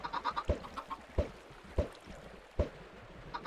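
Chickens cluck in the video game Minecraft, with short, clipped calls repeating at a fairly steady pace and a few softer chirps between them.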